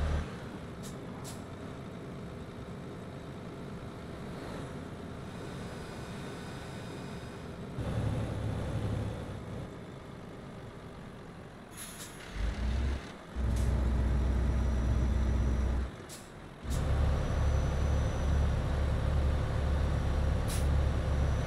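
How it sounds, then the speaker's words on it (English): Truck engine in Euro Truck Simulator 2 drones steadily and loudly throughout, swelling in heavier bursts as the throttle opens, with sharp air-brake hisses between. "I'm sure the engine sound on this view is louder than it's supposed to."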